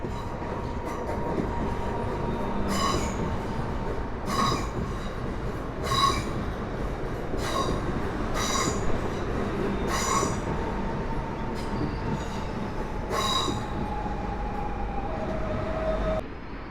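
An Elf electric multiple unit airport train passes at Warszawa Służewiec station, a steady rolling rumble with a rhythmic series of wheel clicks over rail joints and a thin squeal, continuous and fairly close, with no talk.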